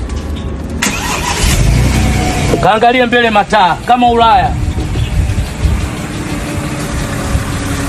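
A Range Rover engine turns over and revs, rising and falling in pitch amid steady outdoor noise, while someone talks loudly nearby throughout.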